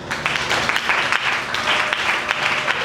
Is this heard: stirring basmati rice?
no